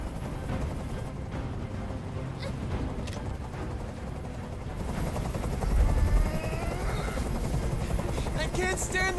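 A helicopter's steady rotor drone fills the scene in the video game Detroit: Become Human, overlaid with game action noise and a louder rumble partway through.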